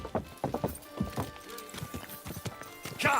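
Horse hooves clip-clop in bursts in the medieval video game Kingdom Come: Deliverance II, close and fairly loud, with a short whinny near the end.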